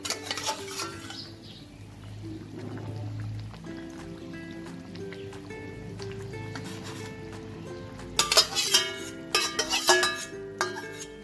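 Fried pabda fish pieces go into a boiling Bengali curry in a pan: soft bubbling and spoon stirring, broken by sharper metallic clinks and clatter bursts toward the end, nearby and moderately loud.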